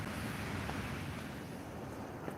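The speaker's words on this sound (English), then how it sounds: "It's lovely listening to those waves down there" Large sea waves of a heavy swell break steadily on the shingle of Chesil Beach, forming a continuous roar of surf with some wind noise, close and fairly loud throughout with no talking.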